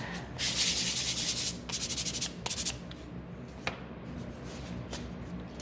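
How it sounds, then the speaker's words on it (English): Sandpaper rasps by hand against small wooden pieces in several quick back-and-forth bursts, loud at first, then shorter strokes and a few scrapes trailing off into quiet. "I'm gonna give these a sand first."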